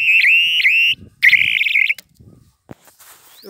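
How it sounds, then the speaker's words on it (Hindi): Electric fence energizer alarm sounding because of a short circuit, two loud shrill electronic warbling tones in quick succession, then quiet with faint clicks. "इसीलिए इस तरह से अलार्म बज रहे हैं।"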